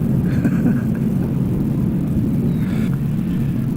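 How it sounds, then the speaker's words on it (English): A low, continuous rumble rolls on steadily throughout, deep and distant, with no other distinct sounds over it. "You can still hear the thunder growling contentedly."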